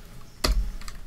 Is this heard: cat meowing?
no